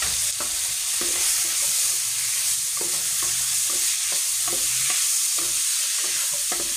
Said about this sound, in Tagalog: igisa muna natin yung pork